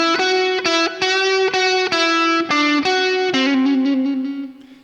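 Distorted electric guitar plays a blues lick in A, a run of sustained notes with a minor-to-major third trill, loud and close with no talking, the last note ringing out and fading.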